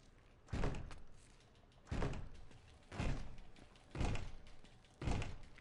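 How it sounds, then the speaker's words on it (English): Heavy door in Uncharted 3 being shoved open, heard as five loud, evenly spaced thuds about a second apart, each a broad low impact that fades quickly, with no talk. "Come on, Sully, give me some help with this door."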